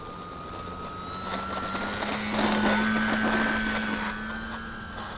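An E-flite P-51D Mustang 1.0m electric RC model plane in flight gives a steady, high motor whine that swells to a peak midway as it passes, then gradually fades. No voices are heard.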